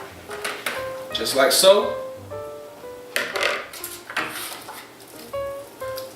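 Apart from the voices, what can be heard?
roasted potatoes being put into a crisper pan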